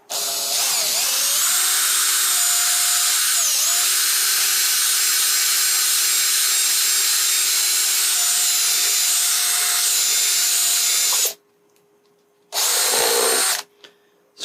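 A power drill bores a hole through the back wall of a plastic cooler being made into a live bait well. The whine runs loud and steady for about eleven seconds, stops, then gives one short final burst.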